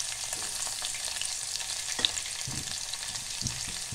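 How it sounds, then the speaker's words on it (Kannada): Crushed garlic fries in oil in a pan, giving a soft, continuous sizzle with a few light stirring clinks, fairly quiet and with no talk. "ಬೆಳ್ಳುಳ್ಳಿನ ಜಜ್ಜಿಬಿಟ್ಟು ಹಾಕ್ಕೊತಾ ಇದ್ದೀನಿ ಎಣ್ಣೆಯಲ್ಲಿ"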